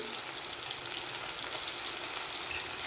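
Tamarind, curry leaves and coriander sauté in a pan with a soft, even sizzle, a constant close hiss that carries on without pause and without talk.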